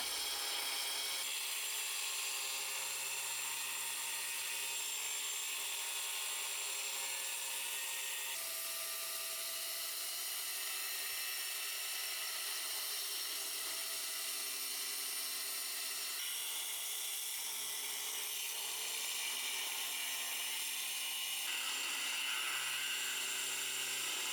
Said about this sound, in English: I fire up the grinder and begin cutting the base along the marked lines.